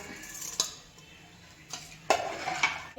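Rice and moong dal tipped into a metal pot for sweet pongal, with a few sharp clinks and scrapes of utensil against the pot over quiet kitchen background, no talking.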